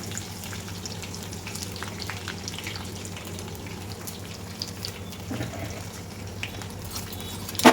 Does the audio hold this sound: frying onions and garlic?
yes